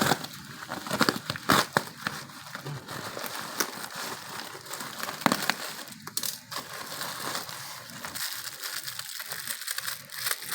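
Package of round glass mirrors being unboxed, with steady crinkling and crushing of plastic wrapping and packing material, close and continuous with sharp crackles throughout.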